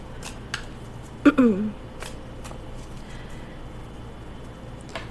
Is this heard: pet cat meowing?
no